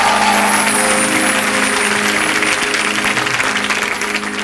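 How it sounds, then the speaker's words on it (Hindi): Audience applause at a televised comedy show's music competition, a loud dense wash of clapping that holds steady throughout without any talk. "तो हो जाए जोरदार तालियां।"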